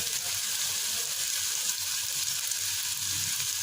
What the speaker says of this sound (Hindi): अब आपने इसको अच्छी तरह से भून लेना।